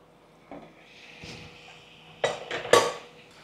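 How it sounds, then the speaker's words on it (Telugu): Metal lid set onto a pan of frying chicken curry, a few sharp clanks and clatters of metal on metal, the loudest two near the end, over a faint quiet kitchen background. "మూత కూడా పెడుతున్నాను సో దట్ మగ్గుద్ది"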